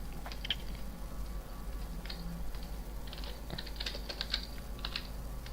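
Quiet, uneven bursts of keystrokes on a computer keyboard, soft clicking taps in short flurries over a steady low hum, with no talking.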